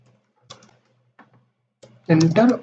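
Someone types code on a computer keyboard, with a few scattered keystrokes spaced apart before a person starts talking clearly over the end.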